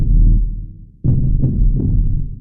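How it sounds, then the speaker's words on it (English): An extremely low synth sub bass, produced for a thall metal track, drones and drops out briefly, then returns with pulsing, throbbing hits that trail off in reverb. "this sub bass sound that I have is like stupidly low"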